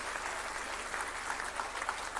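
Audience applause at a telecom awards ceremony as a runner-up is announced, a full, steady burst of many hands clapping at close, even volume.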